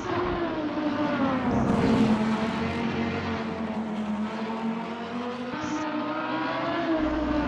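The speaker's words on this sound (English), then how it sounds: "the Lamborghini's got one of my favorite engine sounds in this game" A Lamborghini race car engine in a video game roars steadily and close, its pitch dipping and climbing slightly with gear changes, with no talking.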